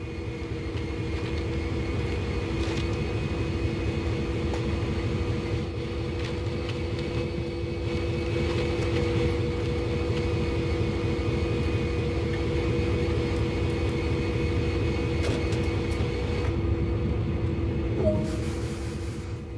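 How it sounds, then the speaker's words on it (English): A CSX freight diesel locomotive in Train Sim World idles and rumbles steadily during switching, its engine drone loud and constant with a sustained low hum and faint tonal whine throughout, no talk. "Set the locomotive up and pull towards the cars ahead."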